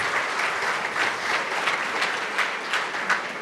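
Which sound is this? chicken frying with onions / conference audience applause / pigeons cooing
conference audience applause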